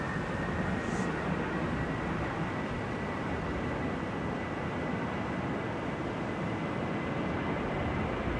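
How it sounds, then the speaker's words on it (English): Ryanair jet departing Manchester Airport for Gdansk, a steady loud broadband roar of engines that holds constant throughout with no break or fade. "Ryanair departing to Gdansk with flight 4094"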